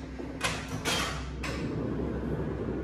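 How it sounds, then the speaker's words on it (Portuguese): A drawer under an X-ray examination table is pulled open, giving a few short sliding scrapes with a clunk, followed by a low steady equipment hum. "Vou puxar aqui a minha gaveta."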